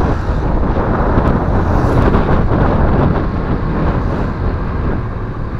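Strong wind buffeting the microphone while riding a Honda Click 125i scooter on a zigzag uphill road in Cavite after rain, a loud continuous low roar that rumbles and gusts without letup.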